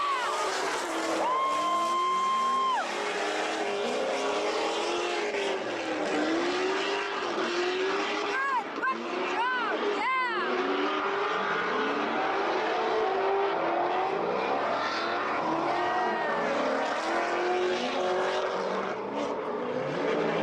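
A car engine drifting in the TopDrift video game drones and revs steadily, with wavering pitch sweeps and tire noise as the car is thrown sideways and held on the gas, continuous and fairly loud.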